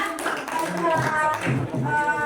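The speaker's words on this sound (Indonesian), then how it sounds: "Tepuk tangan buat adik Nabila." A few pupils clap in a classroom during a lesson, uneven taps and claps that start and stop across the short stretch, fairly close and moderately loud.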